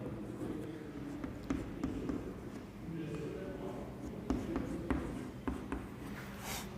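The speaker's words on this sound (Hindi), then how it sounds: "यहां पे हम लिख देते हैं" Writing on a board during a physics lesson on light, with soft scratchy strokes and taps at an uneven rhythm over a low room hum and faint voice.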